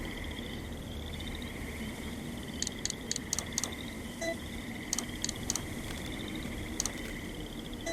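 Swamp frog ambience in a horror video game: a steady hissing, buzzing bed of chorusing with clusters of short clicky croaks repeating in bursts, continuous and moderately loud, no talking.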